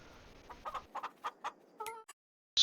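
Chickens in the Farming Simulator 22 video game give a quick series of short clucks, then a louder squawk, ending in a sudden loud burst after a moment of silence.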